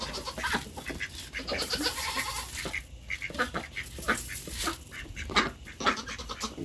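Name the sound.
farm goats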